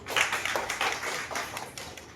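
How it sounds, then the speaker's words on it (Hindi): Short bout of audience hand clapping during an acupressure health talk, quick repeated claps from a small group, fairly quiet and close. "ताली बजाना बहुत जरूरी है"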